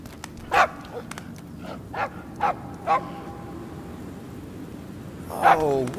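A dog in the video game Marvel's Guardians of the Galaxy gives a series of short, evenly spaced barks and yips, followed after a pause by a louder, closer yelp over a low game ambience.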